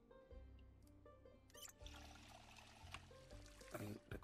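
Water being drunk in the survival game Project Zomboid, a quiet pouring and trickling sound over low game background hum, with faint clicks and shifting noise through the few seconds.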